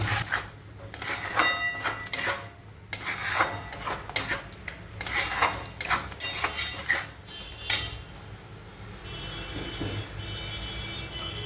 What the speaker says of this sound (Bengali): এবার ভালো করে আমি এটা কষাবো, 6-7 মিনিট ধরে ভালো করে এটা আমি কষাবো।